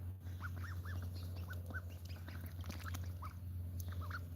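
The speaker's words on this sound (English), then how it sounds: "These are ruined ducks, so they will not fly away." Wing-clipped domestic ducks quacking in short, repeated calls, several birds fairly close over a steady low hum, with no one speaking.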